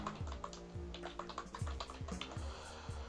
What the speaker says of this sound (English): we can type the keywords